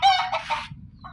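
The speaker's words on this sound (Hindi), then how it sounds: "ओहो मुर्गी, ए मुर्गी" A chicken clucks nearby in a quick burst of calls, then one more short cluck after a brief pause.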